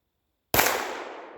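A single sharp shot from a Gforce Chronicle 1911 pistol in 9mm, fired one-handed, cracks out after a moment of silence, followed by a short echoing decay.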